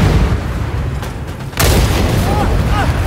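Video game gunfire in Second Extinction, a dinosaur shooter: heavy booming shots with rumbling tails, one sharp loud blast midway, all over a continuous low background.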